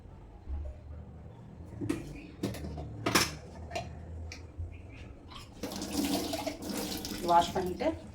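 Chicken is washed in a kitchen sink with water splashing and trickling, broken by sharp clinks and clatters of bowls and pans, with a few quiet voices.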